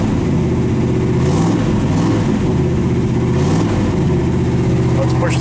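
A 1969 Ford F250 engine runs steadily just after a cold start in freezing weather, a loud, continuous low rumble with slight shifts in pitch and no talking over it.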